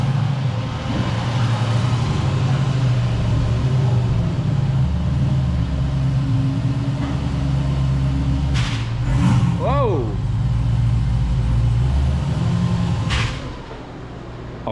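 A twin-turbo LSX V8 in a Chevelle with a DCT transmission swap idles steadily with a deep, loud low rumble, holding revs as the clutch engages, with voices talking over it and brief squeaks.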